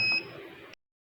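A buzzer on a homemade water level monitoring device with LED indicators gives a single short, high electronic beep close by, which cuts off into silence.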